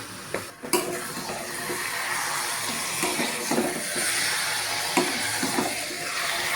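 Mutton dropped into browned fried onions in a kadai, a steady close sizzle with scraping stir strokes and a few sharp clanks of a spoon against the metal pan.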